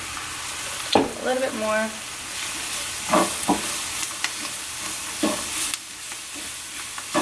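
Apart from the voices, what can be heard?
lightly sautéing etouffee ingredients in a pan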